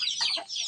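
Native chickens on a small farm give a quick, close cluck and squawk, a short bright call broken by a brief dip.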